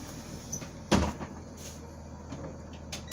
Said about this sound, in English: So we want to close the door.